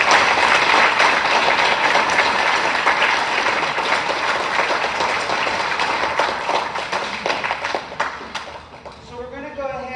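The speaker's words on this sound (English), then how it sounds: "if we could have another big round of applause for the string orchestra students and their teacher" A school audience at a band and strings concert gives a long, loud round of applause to the string orchestra students and their teacher, dense clapping that holds steady before thinning out near the end.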